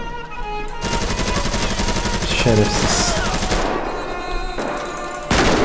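Rapid automatic gunfire crackles in GTA 5 during a large battle around an enemy base, sustained bursts of shots with brief pauses, while someone talks in Turkish over the action.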